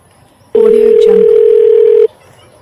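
A telephone call tone sounds as one loud, steady electronic beep lasting about one and a half seconds, starting and stopping abruptly against a quiet background.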